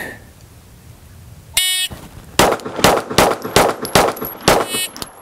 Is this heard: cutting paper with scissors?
no